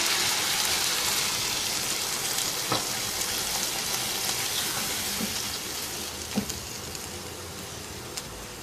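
Chicken and onions fry in a pot as water is added for a Pakistani-style stew, giving a soft, steady hiss and sizzle with a few faint clinks, no voices.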